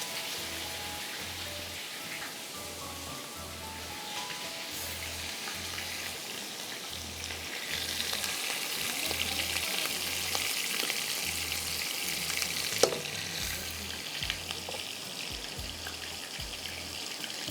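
Food frying in a pot on a cooking show, a steady crackling sizzle running the full length at moderate level, with a regular low thumping pulse underneath.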